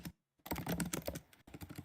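A computer keyboard is typed on in quick bursts of close clicking, with a short gap of silence early on and another brief pause near the end.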